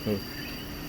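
Coquí frog giving a brief two-note call in the background, faint and short, over a steady insect-like hum outdoors.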